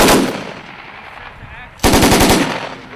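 U.S. Marines fire an M240B machine gun on a live-fire range: a loud opening burst, a lull of lingering echo, then a second sustained burst of rapid, evenly spaced shots close by.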